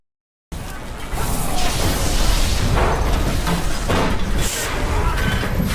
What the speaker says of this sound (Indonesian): Namun torpedo U-boat meledak di dekat Swordfish.